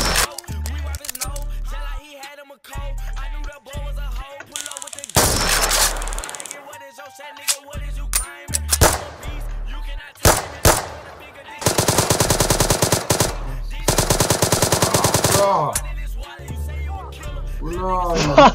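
Minecraft roleplay gunfire comes in rapid automatic bursts, some sustained and some short, loud and close, with brief pauses and scattered game clicks between volleys.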